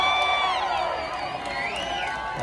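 A live concert crowd at a show cheers and whoops loudly, a sustained roar of voices with rising shouts, close and filling the room.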